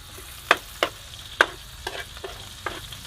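Chicken and pork with onion frying outdoors in a pan, a spatula scraping and clanking in about seven sharp strokes over a soft, steady sizzle, close and alone without talking.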